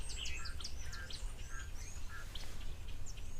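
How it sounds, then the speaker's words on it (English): Doves and weavers call from a thorn tree at a waterhole: a busy layer of quick chirps and short twittering notes from several birds over a steady outdoor background rumble, with no talking. "But there's a couple of doves around,"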